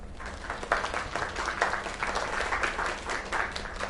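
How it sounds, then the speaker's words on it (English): Game crowd in Lake on PS5 applauding a singer's performance: a dense, continuous wash of clapping from many hands, moderately loud and fairly close, with no voices over it. "Another round of applause."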